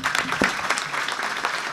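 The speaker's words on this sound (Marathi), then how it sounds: "एक बार तरुण मंडळाबद्दल टाळी वाजवावं" An audience at a comic kirtan applauds a youth group, a brief burst of steady crowd clapping at moderate loudness with no voices over it.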